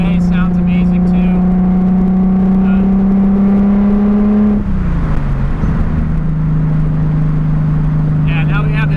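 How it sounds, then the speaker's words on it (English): A 1994 Nissan Skyline R33 with an RB engine and a bigger turbo drones loudly up close, holding a steady revving tone, then dropping in pitch midway before settling again, with a voice faintly under the engine noise. "Something about an RB motor just sounds so good."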